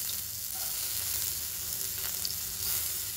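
Chopped onion frying in a little oil for a breadcrumb coating for chicken Mughlai bites, a steady close sizzle with faint crackles and no talking.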